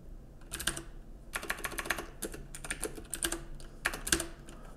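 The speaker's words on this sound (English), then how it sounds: "I'll type it and then I'll explain it" Someone types on a computer keyboard while writing a Python solution, producing close bursts of rapid key clicks separated by brief pauses, with no speech.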